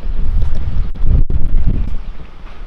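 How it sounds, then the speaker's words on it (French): Wind gusts outdoors in Tenerife and buffets the microphone with a loud, low rumble that swells and eases over a few seconds, with a brief dip near the middle. "là il y a un peu de vent"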